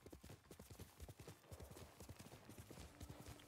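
Horse hooves in Ghost of Tsushima, a rapid galloping clip-clop of hoofbeats at a quick steady rhythm, fairly faint, with a low background hum and no talk.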